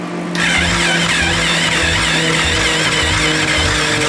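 Kawasaki KFX 700 quad engine cranking and catching after a brief quiet moment, settling into a loud, close, steady idle with a regular throbbing pulse.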